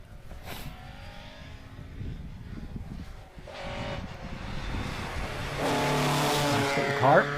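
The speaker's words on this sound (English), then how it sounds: "Nice little car. Proper little historic RS 1800." A historic RS 1800 rally car drives on a rally stage at the Ulster Rally, its engine rising in pitch and growing louder as it nears, with a rough, noisy backdrop and a harsh revving surge at the end.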